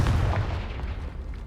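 Confringo spell explosion in the Hogwarts Legacy video game, a brief deep boom with a rumbling tail, loud and alone.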